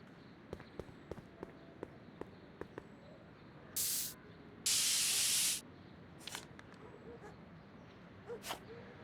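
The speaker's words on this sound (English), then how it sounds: "Spray paint." Spray paint can hissing in the Back to the Future video game, two broadband bursts, a short one then a longer one of about a second, standing out over quiet background clicks.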